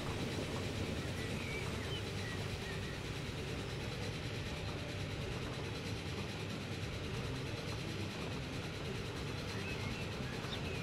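Train running in the video game Transport Fever 2, a faint, continuous rumble of rolling wheels and engine drone that stays steady throughout with no talking.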